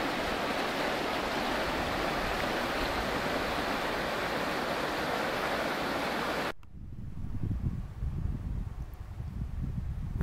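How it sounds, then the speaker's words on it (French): A swollen stream rushes like a torrent beneath a railway in the Ardennes in November, a loud, dense roar of water that drops abruptly partway through to a softer, more distant rushing. "ce ruisseau, à l'origine, qui s'est transformé là pour le moment en torrent, passe en dessous"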